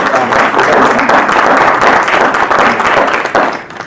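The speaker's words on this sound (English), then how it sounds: "let's give Betty Dobson a big round of applause" Loud, dense audience applause fills a lecture hall at a university Africana Studies event, steady clapping sustained for about four seconds before tapering slightly at the end.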